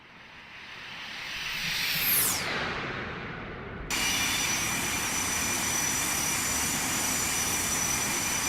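Simulated Boeing 737-200 jet making a low flyby in a flight simulator game, engine roar swelling as it approaches with a falling whine as it passes, then a sudden shift to a steady loud broadband rush.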